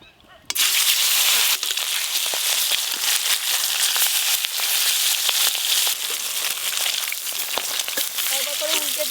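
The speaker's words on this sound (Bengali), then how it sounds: "মাছগুলো বেশ ভালো করে একটু লাল লাল করে ভেজে নেব।" Large pieces of pomfret fish fry in plenty of hot oil in a wok, a loud, continuous crackling sizzle that starts abruptly and holds steady with scattered pops.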